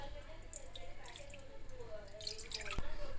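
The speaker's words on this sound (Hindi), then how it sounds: "इसके लिए सबसे पहले मैं पैन में दूध डालूँगी 2 गिलास।" Two glasses of raw milk are poured into a cooking pan, a faint, quiet trickle with light dripping sounds, a voice faintly present in the background.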